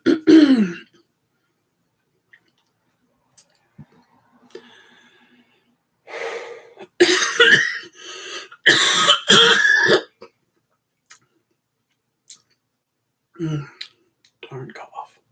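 A person coughs and clears their throat in several harsh, close bursts, with breathing and gasps between them and stretches of silence.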